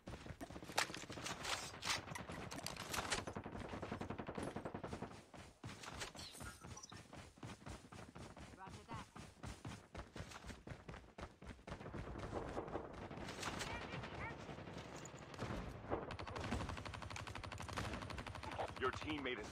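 Rapid gunfire from a weapon with an extended magazine in a multiplayer shooter video game: faint, fast bursts of shots crackle almost continuously throughout, with brief pauses between volleys.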